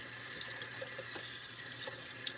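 Water runs steadily from a kitchen tap into a sink during dishwashing, a close, continuous splashing rush with no voices.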